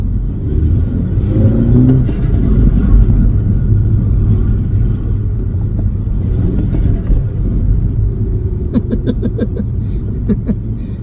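A turbocharged Mini Cooper S F56 with an aftermarket Burger Motorsports intake rumbles and revs up under load from inside the cabin, steady and loud, with faint clicking and whooshing near the end.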